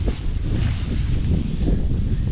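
Wind gusts across an outdoor farm, loud buffeting and rumbling against the microphone with a continuous roar throughout and no clear voices.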